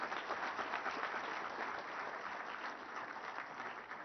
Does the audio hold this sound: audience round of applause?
yes